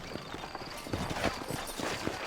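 Horses' hooves clip-clopping on a dusty town street in Red Dead Redemption, a quiet irregular clatter of steps under faint ambient game sound.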